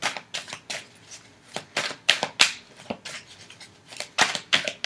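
A deck of tarot cards shuffled by hand up close, a rapid series of crisp riffling and slapping bursts in an irregular rhythm, with no one speaking.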